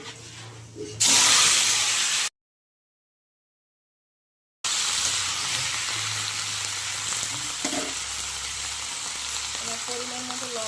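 Mustard seeds crackle and sizzle loudly in hot oil in a pan, a steady frying hiss that stays strong throughout, with a short gap of silence partway.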